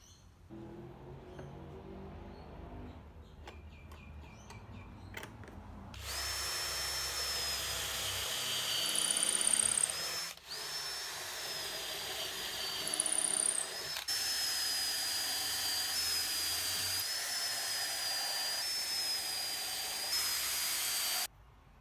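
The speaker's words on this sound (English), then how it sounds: "I started by centering the jig on each piece and drilling 2 holes" A power drill whines steadily at high speed in several long bursts, drilling dowel holes through a doweling jig into wooden pieces for a bath caddy, with brief pauses between holes and a quieter stretch of handling noise at the start.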